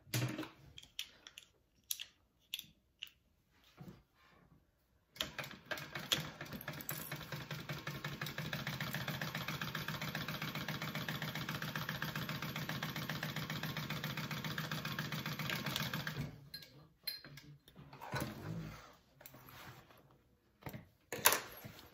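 A sewing machine stitches a seam on an H2O 2GO sling bag, its motor running steadily and fairly loud for about eleven seconds, with brief fabric-handling rustles before and after.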